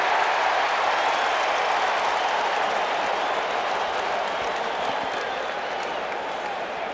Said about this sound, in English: It is a festive, highly enthusiastic crowd as Wade Boggs awaits the first pitch.